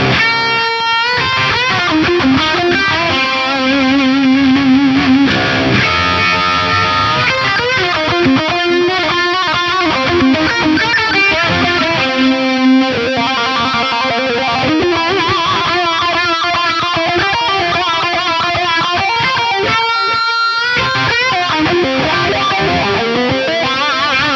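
Overdriven electric guitar through a boosted Bogner Ecstasy Red amp model with a Uni-Vibe effect, playing continuously and loudly, with a swirling, throbbing modulation washing over the chords and lead lines throughout.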